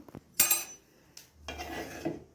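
Tamarind rice (puliyodharai) being stirred in a pot makes a few short, close scraping strokes and metallic clinks, separated by quiet gaps.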